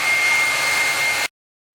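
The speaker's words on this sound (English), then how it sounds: "It gets warm, but I like to use the warm heat and heat up the front clam where the paint is." A blow dryer roars loud and close on warm heat, heating the painted front clam of a Lotus, a steady whoosh that cuts off abruptly.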